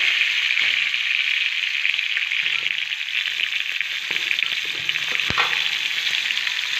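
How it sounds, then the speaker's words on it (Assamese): Potatoes frying in a pan give a steady, close hiss of oil that runs unbroken throughout, with a couple of soft utensil knocks near the end and no talking. "এতিয়া মই ইয়াতে ব্যৱহাৰ কৰিছোঁ আলুখিনি অলপমান বেছি টাইম ভাজি ল'ম যাতে আলুখিনি সিজি যায়"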